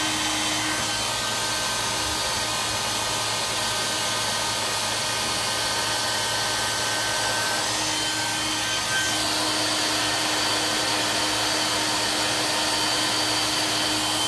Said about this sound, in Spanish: Secadora de pelo normal, con el que seca el pelo largo